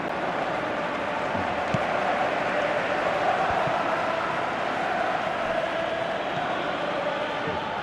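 Steady stadium crowd roar in a PES 2017 football video game, Champions League match between Barcelona and Leicester City, a dense continuous wash of cheering held at an even level throughout.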